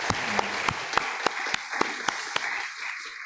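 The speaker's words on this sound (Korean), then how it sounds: "우리 영광의 박수로" A church congregation claps together in unison during a worship service, sharp synchronized claps landing in a regular beat roughly every third of a second over a softer background of scattered clapping.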